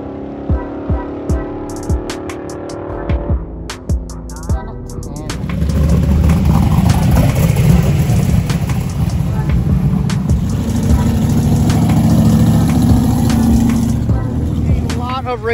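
At an outdoor drag racing event, cars first idle with sharp blips and pops nearby, then a loud, sustained engine roar builds and holds as a car launches and accelerates down the strip.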